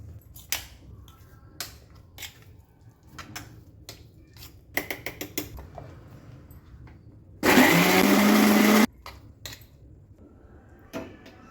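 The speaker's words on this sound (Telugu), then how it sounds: "గట్టి ఉంటే కొంచెం నీళ్లు పోసుకొని మిక్సీ పట్టుకోవాలి" An electric mixer grinder whirs loudly for about a second and a half, grinding tender tamarind leaves with a little water. Scattered kitchen clicks and knocks come before and after the short burst.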